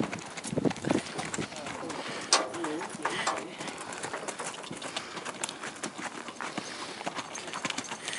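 A bay roan gaited gelding, 15 hands, moves with quick, even clip-clopping hoofbeats over ground, fairly close, while birds and outdoor ambience sit in the background and people talk over it.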